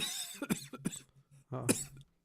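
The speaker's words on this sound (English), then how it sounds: "He's still coughing." Several short, dry coughs close by, a quick cluster of hacks followed by a pause and one more rough burst.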